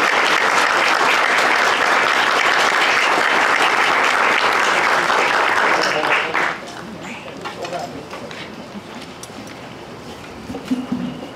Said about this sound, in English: Can we get a nice round of applause for our mayor, Mr. Jeffrey Shelkey?